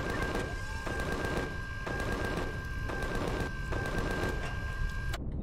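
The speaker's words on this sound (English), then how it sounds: "these guys were actually firing at something" Rapid bursts of automatic gunfire from enemies in Empyrion Galactic Survival, a sci-fi game, repeating in steady volleys roughly once a second with a constant electronic tone underneath, then cutting off abruptly near the end.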